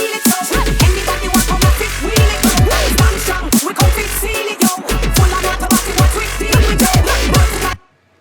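A heavy electronic dance drop from a remix plays with its synth layers muted, leaving punchy kicks, deep sub bass and pitch-dropping sweeps in a steady pounding rhythm, loud and continuous until it cuts off near the end.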